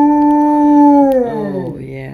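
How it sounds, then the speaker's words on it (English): An Alaskan Malamute gives a single long, close howl that holds steady and then slides down in pitch before trailing off. "Look at him and listen to his howl."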